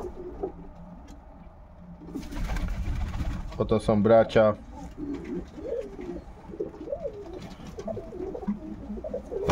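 Pigeons kept in a breeder's loft of old and young birds for sale coo softly in the background while someone speaks Polish throughout.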